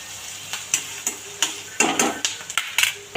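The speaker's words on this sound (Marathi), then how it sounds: "कांदा आपला परतायला आला आहे शिजायला आला आहे" Onions sautéing in a pan for mutton keema, a soft sizzle broken by a regular series of sharp spatula taps and scrapes against the metal, close and clear.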